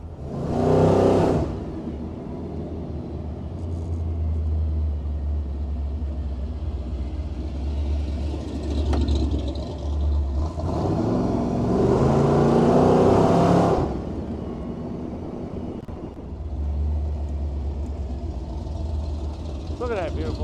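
A 1935 Ford coupe's engine rumbles steadily while driving, swelling into louder revving surges twice before settling back, with talk over the running engine.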